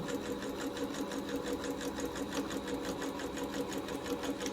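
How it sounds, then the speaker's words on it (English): A sewing machine runs a straight stitch with a 1/8-inch seam allowance down a drawstring backpack seam, a steady, close, continuous whirring hum with no pauses or voices. "just back stitch it and straight stitch 1/8 of an inch seam allowance all the way down"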